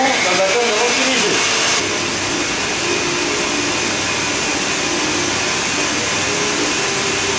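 Stand mixer whipping a macaron sugar syrup mix, a loud steady whirring drone that holds constant throughout, with a voice talking briefly at the start.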